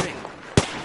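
A single sharp, loud gunshot from an online shooter video game on PS4, cutting in near the middle over a low, steady game background.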